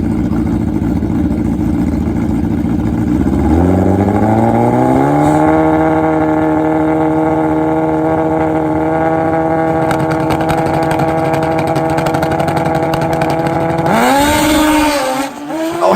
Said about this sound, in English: He's on a GSXR 1000 Nitrous bike. A lot of horsepower here.